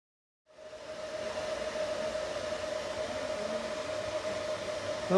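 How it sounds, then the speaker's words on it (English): Welding a mounting tab onto a BMW E92 air scoop produces a steady, close hiss with a constant buzzing hum that starts abruptly and holds without a break. "Let's weld it on."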